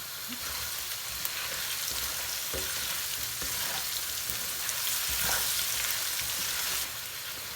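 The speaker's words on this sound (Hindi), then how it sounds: "अब हमने आलूओं को मसालों के साथ भी भून लिया है।" Potatoes frying with red chili powder, ground coriander and other spices in a pan, a steady close sizzle with occasional stirring scrapes, no talking.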